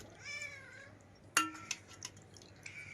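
A cat lets out a short, faint meow, followed by a few light clinks and taps nearby in a quiet room.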